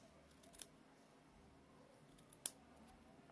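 Scissors snip through ribbon in two sharp, quiet cuts about two seconds apart, close up in an otherwise hushed craft setting.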